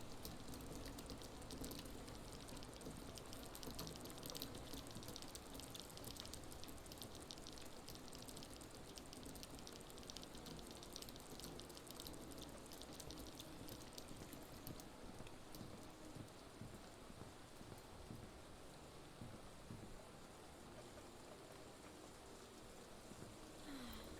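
Steady, dense rain patters throughout, a constant hiss with scattered drips and faint clopping knocks beneath, all at an even, moderate level with no voices.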